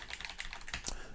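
Computer keyboard keys tapped in a quick irregular run of soft clicks, close and fairly quiet, heard alone.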